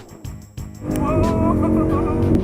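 Lamborghini Huracán LP 582 sports car: a couple of sharp knocks, then the engine surges into a loud, sustained rising roar that holds to the end.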